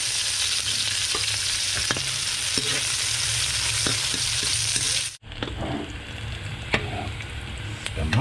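Onion, garlic and ginger sauté in a pan over a fire, making a loud, dense sizzle with light stirring clicks. It breaks off abruptly midway, then resumes slightly quieter.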